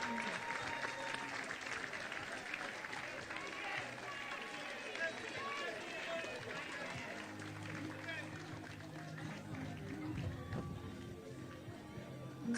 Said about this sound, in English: Listen to the applause, and then you'll understand what I'm talking about.